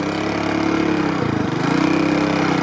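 A moped engine idles close by with a steady, continuous chugging drone and a slight dip partway through, with no talking over it.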